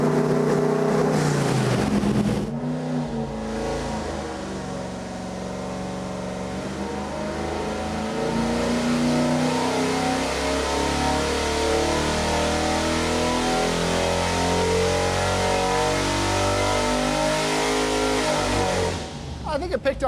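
A rebuilt Chevy 350 small-block V8 for a 1969 Camaro runs loud and close while its ignition timing is adjusted, revving up at the start and then holding a rough, steady idle for most of the clip before dropping off.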